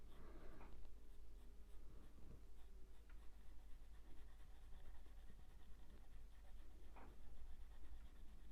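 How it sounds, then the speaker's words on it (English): A pencil scratches and flicks across paper while drawing a duckling, quiet close strokes with a few sharper flicks over a low steady hum, no talking. "I'm just flicking the pencil off at the edge there."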